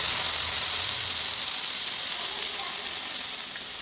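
Mustard, poppy seed and green chilli paste sizzles in a hot pan for a Bengali bata fish curry, a steady close hiss with faint frying crackle that fades slightly over time.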